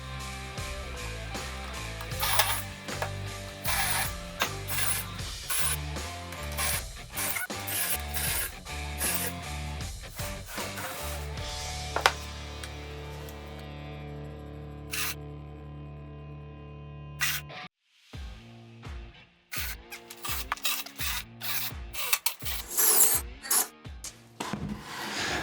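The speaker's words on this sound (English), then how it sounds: "I'm drilling out some pocket holes on the frame" A drill bores pocket holes into a wooden frame for a planer table, with a long sustained grinding, rubbing drone that breaks into a run of short, sharp bursts and pauses toward the end, close and fairly loud.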